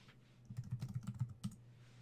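Quick, soft keystrokes on a computer keyboard patter in a short burst of about a dozen taps followed by one last tap, faint and close, while setting up a Yaesu FT2DR Wires-X node, with no talking.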